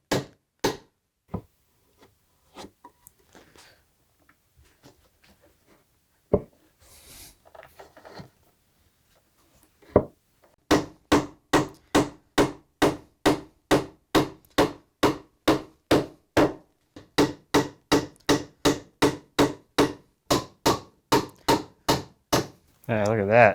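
Wooden pegs are hammered into holes in the posts of a walnut bed: a few scattered taps, then a long, steady run of sharp, evenly spaced blows, close and loud.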